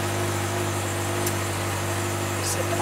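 A Kia Soul idles steadily with a low, even engine hum and faint hiss, started by push button, two brief high clicks from inside the cabin.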